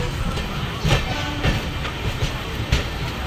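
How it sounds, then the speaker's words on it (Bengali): Passenger train pulling out of Santragachi junction toward Kharagpur, heard from inside a coach: a steady low rumble with rhythmic clickety-clack wheel thumps over rail joints, fairly loud and continuous. "এই যে এখন ট্রেনটা আমাদের ছেড়ে দিয়েছে সাঁতরাগাছি জংশন থেকে"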